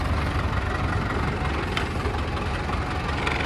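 A steady, loud engine rumble with a deep, even drone throughout from a Mahindra Arjun Novo tractor running close by, with no pauses.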